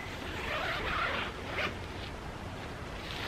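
A Big Agnes Copper Spur HV UL2 tent door zipper being pulled open, a steady close zipping rasp lasting about three seconds with a brief louder tug midway.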